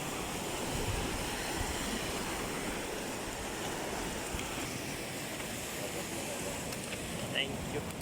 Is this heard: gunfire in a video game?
no